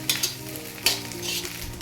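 Egg and ginger frying in a pan for basmati egg fried rice, with steady sizzling and a few sharp spatula scrapes stirring the mix, close and moderately loud.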